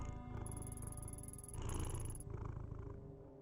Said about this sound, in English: Was that supposed to sound like the cat?